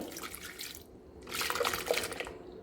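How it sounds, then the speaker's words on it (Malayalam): Vinegar poured into ground fish pickle paste, Lakshadweep style, in two short quiet liquid pours with splashy trickling and a brief pause between, no speech. "ഇതിലേക്ക് ഞാൻ വെള്ളമല്ല ഒഴിച്ച് കൊടുക്കുന്നത്, സുർക്കയാണ്"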